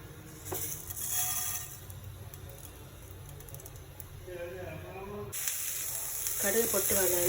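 Mustard seeds crackle and splutter in hot oil with curry leaves and green chillies while cooking broccoli thoran, a close, steady sizzle with sharp pops, a voice talking over it.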